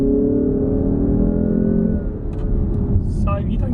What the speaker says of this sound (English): We'll have a listen to that exhaust note first.